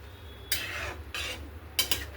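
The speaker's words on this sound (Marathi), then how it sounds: "आता याच्यामध्ये हे तोडून ठेवलेले तुकडे घालू। छान मिक्स करून घ्यायचे" Soaked moong dal and torn chapati pieces are stirred in a pot, with three scraping bursts of a spoon against the metal, the last a pair of quick strokes, over a low sizzle.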